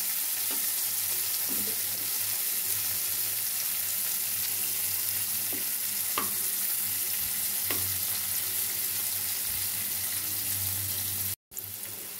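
Chopped onion fries steadily in a pan for prawn kofta curry, a continuous close sizzle with occasional stirring scrapes and one brief cutout near the end; no one speaks.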